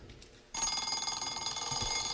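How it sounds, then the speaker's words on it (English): An alarm clock suddenly starts ringing after a brief quiet moment, a loud rapid metallic bell trill that continues steadily in a room. "a sound that is desperately familiar to most of us, and of course it's the sound of the alarm clock"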